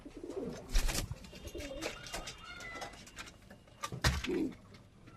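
Pigeons in a rooftop pigeon loft coo in low, rolling bursts, several birds overlapping at close range, with a louder cooing swell near the start and another toward the end over light background rustle.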